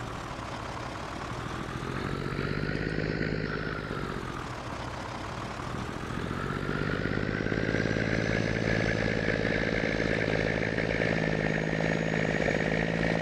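A vehicle engine in Farming Simulator 22 revs up, falls away, then climbs into a loud, steady drone with a sputter of engine braking as the throttle is released. It sounds close and continuous, with no talk over it.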